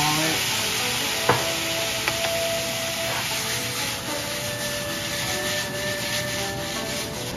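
Soy sauce sprinkled around the edges of rice frying in a pan gives a steady, close sizzle throughout, with a few faint clicks and scrapes and no talk.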